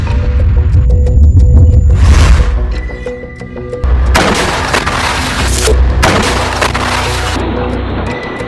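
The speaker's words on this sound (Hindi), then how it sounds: "हमास के लड़ाके दूर खड़े इजरायली टैंक और सैन्य वाहन पर गोले दागते दिख रहे हैं" Heavy mortar shells fired at Israeli tanks and military vehicles, heard as deep booms and rumbling blasts under a continuous low throb, with several loud broadband bursts across the stretch and no speech.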